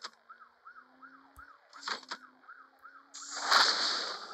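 A police car siren in the racing game Top Speed wails, cycling rapidly up and down, followed by a brief honk and then a loud, harsh blaring tone.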